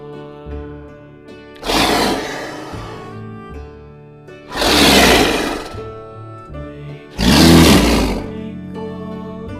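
Three loud roaring bursts of a leopard, evenly spaced, rising over a light musical backing.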